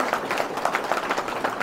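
Applause from the audience at a village New Year's wishes ceremony in Léran, with dense overlapping hand claps filling the short stretch at a steady moderate level.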